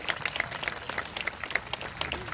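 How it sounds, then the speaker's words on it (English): Crowd of parents and graduates clapping at a Hayfield Secondary School graduation ceremony, a continuous, moderately loud ripple of many hands with distinct individual claps standing out. "Notice the parents are clapping a little louder than the graduates."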